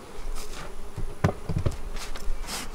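Honey bees buzz around the Enigma hive during a Demaree swarm-control split, their hum close and steady with a few individual bees droning loudly past at close range.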